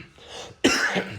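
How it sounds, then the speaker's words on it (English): One dry cough bursts out sharply and close, after a moment of quiet room noise, with a voice in a garage. "I got a dry cough."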